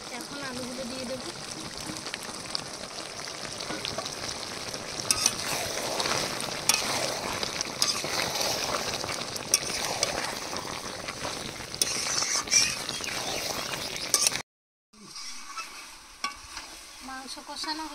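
Potatoes frying in a pan with poultry chicken being cooked down dry with homemade spices, a steady loud sizzle with stirring scrapes, briefly cutting out to silence before resuming.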